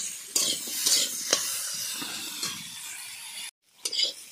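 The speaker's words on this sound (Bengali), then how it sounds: "আর ভালো করে কষবো।" Food sautés in a hot pan while a spatula stirs it and clinks against the metal. The sizzle is steady and up close, broken by one brief pause before the sizzling resumes.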